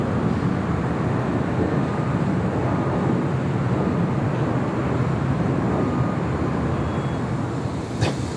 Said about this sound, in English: Next arrival on 24 right is United Airlines flight 1897 coming in from SFO on a 737